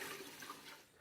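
A gallon of water pours into a soup pot for matzo ball soup, a steady splashing gush lasting about a second, close and moderately loud with no voices.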